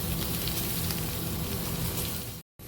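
A steak searing in a hot pan, a loud, steady, close sizzle with constant crackle and spit that cuts off abruptly near the end.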